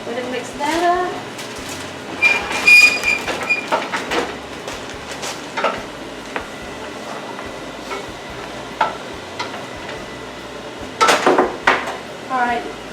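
Green beans being stirred in a pot in a home kitchen: repeated scraping and clinking of a utensil against the metal, with sporadic louder knocks and voices talking.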